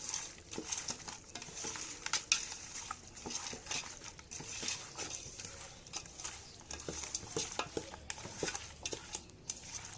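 Duck meat is worked by hand with spices and mustard oil, giving soft, irregular squelching and patting sounds in a quiet kitchen, close and fairly faint, with no talking.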